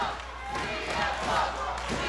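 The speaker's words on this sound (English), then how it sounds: "You hear the crowd here at Davis Arena." A wrestling arena crowd at Davis Arena roars and screams continuously during a CM Punk versus Brent Albright match in Ohio Valley Wrestling, a loud dense wash of voices with a swell in the middle.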